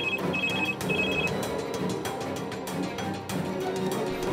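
A telephone keeps ringing indoors during a comedy skit, its chirping bursts repeating through the first second and a half over a busy background of music and room noise.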